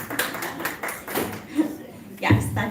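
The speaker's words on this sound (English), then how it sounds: "Yes, that deserves a round of applause." A few attendees at a community advisory board meeting clap briefly and sparsely, the scattered claps close by and mixed with ongoing talk and light laughter.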